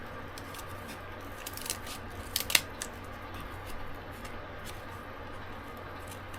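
Scissors snip through a piece of cardboard with a few crisp, close cuts and scraping crunches clustered in the middle, over a steady low room background.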